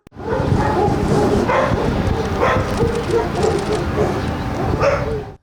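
A stray yard dog from Crimea, stressed and wary, is out on its first walk, giving several loud, repeated yips and barks over steady noise, with faint voices mixed in.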